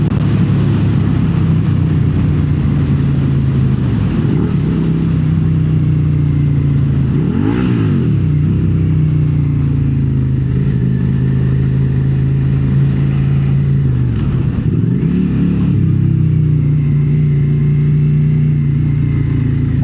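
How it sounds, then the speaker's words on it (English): Motorcycle ridden on a commute with the exhaust sound suppressor removed, a loud steady engine drone with two swells of revving around the middle and later, continuous and close throughout. "The bike sounds a little bit better, a little louder in my opinion."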